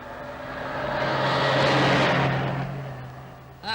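A car passes on a road in a 1939 British comedy film, its engine swelling steadily as it nears, peaking mid-pass, then fading away before a brief sound at the very end.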